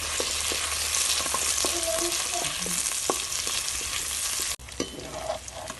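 Masala sizzles and fries steadily in a pan for a sardine dish with tomato and shallots, with scattered stirring scrapes; the sizzle cuts briefly near the end, then resumes more quietly.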